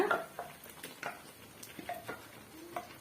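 Masala being fried in oil in a pan over medium heat for a fish curry, with sparse, faint clinks and scrapes of a spoon against the pan and a quiet background.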